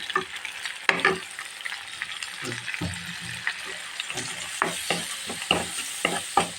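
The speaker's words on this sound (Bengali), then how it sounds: "এখন মশলাটা সুন্দরভাবে কষিয়ে নেব" Ginger, garlic, onion and ground spices sauté in a pan for a Bengali drumstick-stem and prawn curry, a steady close sizzle broken by repeated scraping strokes of a spoon, with no talk.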